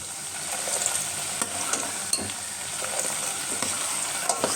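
Butter bubbles and sizzles steadily in a hot pan, a constant crackling hiss with small pops throughout.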